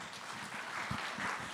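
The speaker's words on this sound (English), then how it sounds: "I will take a little bit of applause" Audience applause at a forest conservation conference plenary in Sonoma County, a soft, steady patter of clapping from a seated crowd, fairly faint and continuous.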